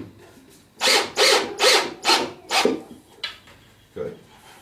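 Screws driven through maple and cherry hardwood drawer fronts with 1.25-inch fine-threaded screws: five close, loud bursts of driving in a quick row, then two shorter fainter ones, with quiet gaps between.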